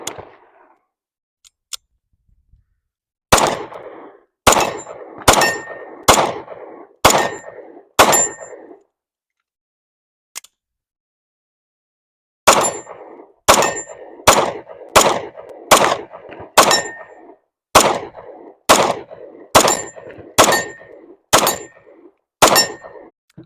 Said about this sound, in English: So obviously the steel speaks for itself. You hear it ding or you don't.